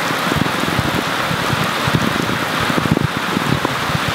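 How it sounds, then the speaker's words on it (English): Heavy rain pours down hard outdoors, a dense, loud, unbroken hiss with scattered heavier drops pattering on surfaces nearby. "We want to make our kombucha video, but it's raining too loud."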